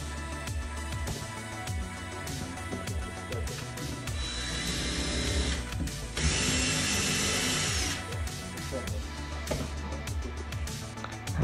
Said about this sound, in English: There's the smaller drill bit. It was brand new, so it would cut through stone really fast.